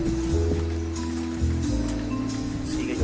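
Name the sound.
rain falling at dusk in Siloé, Cali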